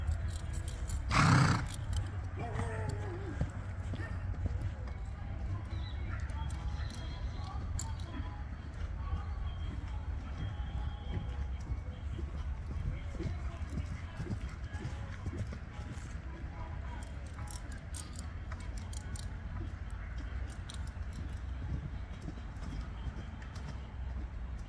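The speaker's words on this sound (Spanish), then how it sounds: "un caballo que salió con las manos y la pata que tiene que salir" A tostado malacara horse moves on the ground, its hooves giving soft, irregular thuds and one sharp knock near the start, under a steady low rumble and someone talking throughout.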